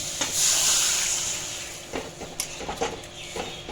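Water poured into a pan of potatoes in a Bengali-style egg pakora gravy, an initial loud hiss and sizzle followed by softer bubbling and a few scraping stirs.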